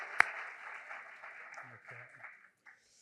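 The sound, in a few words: audience applause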